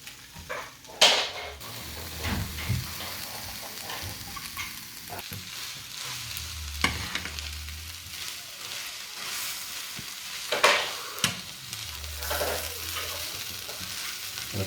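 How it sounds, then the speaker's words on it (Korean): Kimchi fried rice with sausage sizzles in a hot pan while a utensil scrapes and stirs, with intermittent clanks against the pan. "김치 이거 볶음밥을 하려고 하는데"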